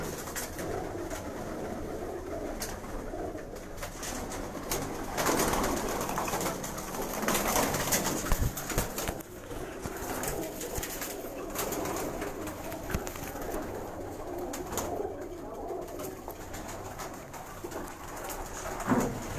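Pathan-breed pigeons coo softly and steadily in a rooftop loft, low murmuring calls repeating over a constant background rustle, with no voices.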